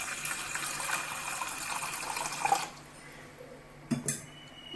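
Water pours steadily into a cooking pot for boiling jackfruit for payasam, a rushing stream lasting a few seconds that stops abruptly, followed by a couple of sharp metallic clinks from the pot.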